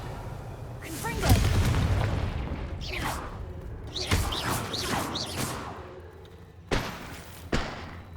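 Explosive spell blasts go off in the Hogwarts Legacy video game, several deep booms and crashing thuds spread across the clip with a couple of sharp impacts near the end, while a voice talks over them.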